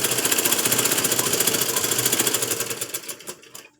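A sewing machine stitches along a fabric edge with a fast, steady mechanical rattle that runs loud and continuous, then slows and stops at the end.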